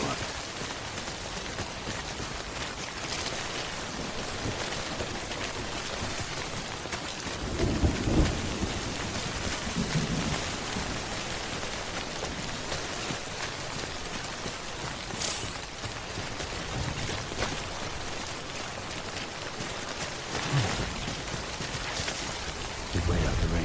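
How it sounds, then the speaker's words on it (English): Steady rain pours down in Death Stranding, with several low rumbles of thunder rolling in at intervals beneath the constant patter. "We'd wait out the rain over there."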